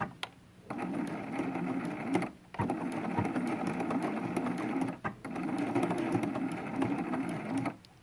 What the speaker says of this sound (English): going to start sewing and then do some back stitching